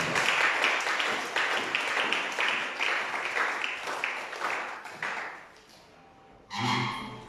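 A church congregation applauds with steady rhythmic clapping for about five seconds, fading out before a voice speaks briefly at the end.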